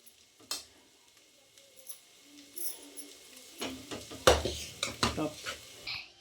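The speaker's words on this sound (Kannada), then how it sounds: "ಇವಾಗ ಅನ್ನ ಮಗ್ಸ್ಕೊಂಡಾಗಿದೆ" A utensil stirs cooked rice in a pan while making egg rice, giving close scraping and clinking strokes with light sizzling, irregular and louder toward the end.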